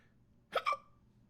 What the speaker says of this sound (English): If I hiccup again